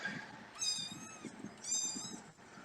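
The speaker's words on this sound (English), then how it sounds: "Oh, it's a cat." A cat gives two drawn-out, high meows, each lasting about half a second and a second apart, heard faintly over low background noise.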